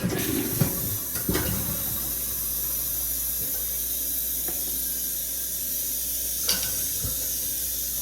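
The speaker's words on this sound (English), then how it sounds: "I flushed that. I'm not satisfied with that flush, so I'll come back and flush that again." A toilet in a master bathroom flushes: a loud steady rush of water fills the space. A few sharp clanks stand out near the start and sound again later.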